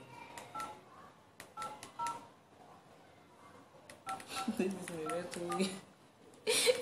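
Telephone keypad DTMF tones dial a number, a series of short, distinct beeps in irregular bursts, fairly close and clear, followed by voices speaking over faint background sound.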